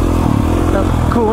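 A KTM 450 liquid-cooled dirt bike engine drones steadily on tight, rocky, steep mountain single track, a loud continuous motor note with clatter, under a voice talking throughout.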